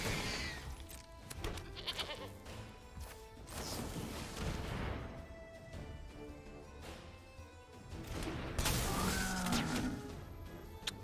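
Goat token bleating inside the MTG Arena card game, a short bleat rising over busy game effects, chimes and impact sounds with steady background music.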